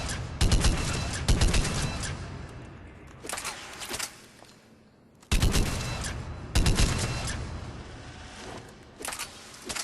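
An Argus assault rifle in Mass Effect 3 fires from the hip in loud, close, rapid bursts of heavy booming shots, with short gaps between each volley.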